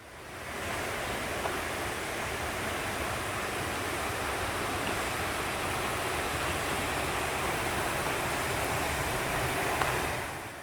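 A mountain valley stream in Wonju, Korea, flows beneath leaning pine trees, a steady, full rushing wash of water that stays close and unbroken.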